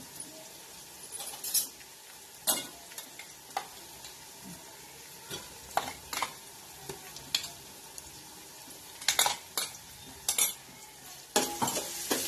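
Ginger garlic paste frying for pav bhaji gives a soft, low background sizzle, broken by sharp intermittent clinks and scrapes of a spoon stirring against the pan.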